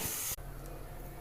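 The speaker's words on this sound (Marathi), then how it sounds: "आपण त्यात पाणी घालून घेऊ" Water poured into a pan of frying masala for a spicy pea curry gives a sharp, loud sizzling hiss that cuts off abruptly, leaving a quiet low simmer.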